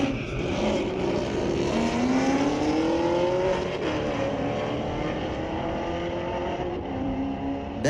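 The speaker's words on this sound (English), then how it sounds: "A bit of a drag race going on." A Chevrolet Camaro and a Ford Mustang drag racing at Mission Raceway Park, engines droning loudly with rising, sweeping whines as they accelerate side by side over a steady roar, no talk.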